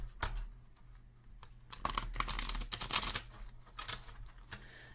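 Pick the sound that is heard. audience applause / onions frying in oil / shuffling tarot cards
shuffling tarot cards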